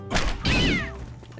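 A cat in the video game Postal 2 lets out a single loud, close meow that rises and then falls, followed by a short faint tail of background noise.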